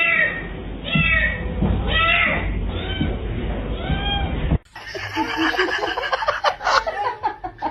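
A kitten meows repeatedly up close in a short series of high, plaintive cries, followed by an abrupt cut to a noisier, busier stretch of sound.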